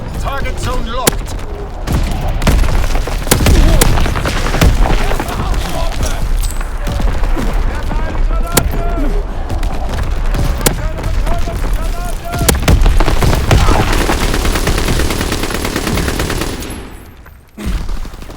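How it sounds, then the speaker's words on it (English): A mortar and artillery barrage in Call of Duty WW2 team deathmatch: dense, loud, continuous gunfire and booming impacts for many seconds, with game voice callouts mixed in, before a brief drop near the end. "Sending mortar rounds, zone and sweep."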